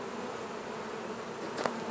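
Honey bees swarm in the air around a hive as foragers try to return home, giving a steady, dense buzzing drone that holds evenly throughout at close range.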